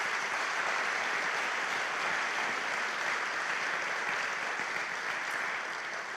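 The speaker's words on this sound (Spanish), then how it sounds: "Un aplauso para ellos." A church congregation applauds in a steady, dense wash of clapping that holds evenly throughout and fades slightly at the end, with no talk over it.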